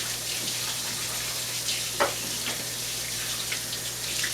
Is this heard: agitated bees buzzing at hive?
no